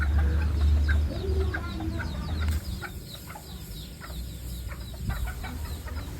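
Serama chickens clucking as a rooster courts a hen, steady soft clucks and low throaty calls close by over a constant background hum, with no speech.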